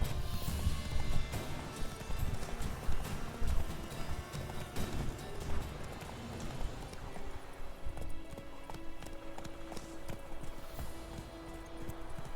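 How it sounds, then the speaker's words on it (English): Hooves clip-clop at a quick gallop as a horse runs in The Witcher 3: Wild Hunt, close and steady, with a brief whinny early on. "¡Corre, caballo, coño!"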